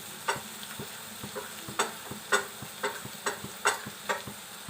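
Onion sautés with green chilli and garlic in a pan for Maharashtrian jhunka. A quiet, low sizzle sits under regular spatula scrapes and taps spaced about half a second apart.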